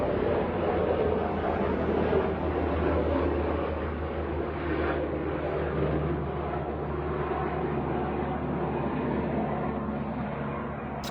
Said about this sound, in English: helicopter. Wait till it comes by.